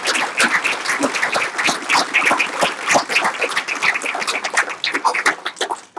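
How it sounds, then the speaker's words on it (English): An audience applauds at a school board of education meeting, dense continuous clapping close by that fades slightly toward the end. "let's give them a grand round of applause for this presentation"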